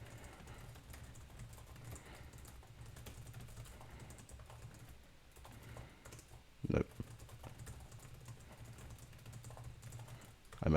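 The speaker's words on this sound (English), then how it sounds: "I should also warm up my fingers to get ready to type a lot." A computer keyboard being typed on at a steady pace, a close, continuous clatter of keystrokes with a louder thump partway through and another near the end.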